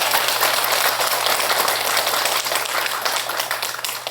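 An audience claps at a Buddhist dharma talk in a temple hall, honouring a monk. The applause is dense and sustained, then thins out toward the end, with no speech over it.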